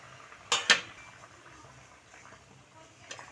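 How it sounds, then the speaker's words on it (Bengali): A metal lid clanks twice in quick succession on a cooking pot while a tilapia, potato and eggplant curry cooks, then a fainter clink follows; close and alone, with no talk. "আমি ঢাকনাটা দিয়ে ঢাকা দেবো। ঢাকনাটা তুলে নেব।"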